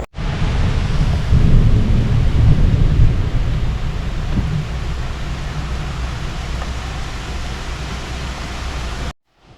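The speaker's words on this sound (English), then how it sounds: "Right before the storm hit and it started pouring." Heavy rain pours steadily with a deep rumble of thunder rolling early on, a dense continuous wash of noise that cuts off abruptly at the end.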